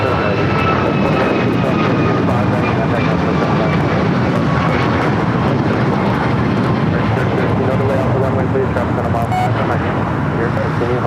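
An American Airlines Dreamliner jet touches down on the south side at LAX, its engine roar loud and steady throughout, with people talking over it and faint road traffic in the background.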